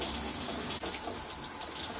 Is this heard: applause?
no